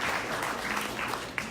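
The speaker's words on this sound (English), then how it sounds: "let's have a little round of applause" Brief applause breaks out among the audience at a Penn Hills council debate, a short burst of moderate clapping heard from a slight distance.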